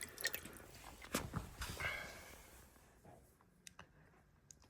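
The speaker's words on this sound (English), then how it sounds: "How about dropping it in the water?" A Lightnovo miniRaman Operator handheld spectrometer, rated IP67, plunges into water: a close splash and slosh of liquid, then a few quieter drips and small clicks as it settles, with no voices.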